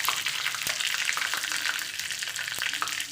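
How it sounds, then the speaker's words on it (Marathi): Chillies and curry leaves fry in hot oil for a tempering, giving a steady, loud crackling sizzle with sharp pops scattered throughout, close up and with no voices. "मिरची झाली की कढीपत्ता टाकायची आणि 1 मिनिट होऊ द्यायचं त्याला"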